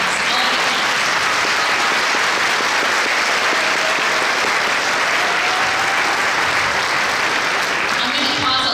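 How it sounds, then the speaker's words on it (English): Dense, sustained applause fills a nursing graduation ceremony at Wenatchee Valley College, a steady wash of many hands clapping close to the microphone throughout. "Claps I love claps."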